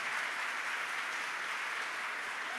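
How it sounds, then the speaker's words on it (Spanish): Steady, fairly faint applause from a church congregation during a worship conference, an even wash of clapping with no talk for a couple of seconds. "Dale fuerte ese aplauso a nuestro Dios."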